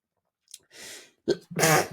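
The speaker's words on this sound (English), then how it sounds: "double sneeze, my apologies" Two sharp, breathy sneezes in quick succession, close to the microphone, with a short intake of breath between them and no talking.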